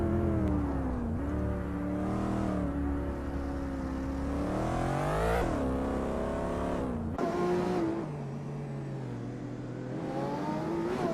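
A 2013 Lamborghini Veneno supercar's engine roars continuously in a racing video game, its pitch climbing and dropping through gear changes, loud and close throughout with no voices.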